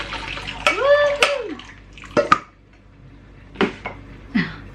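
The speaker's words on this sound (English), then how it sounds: "we're going to drain the pasta" Cooked pasta water poured into a colander in a home kitchen, with short splashing gushes and metallic clanks of pots, separated by pauses, close and fairly loud, with no talk over it.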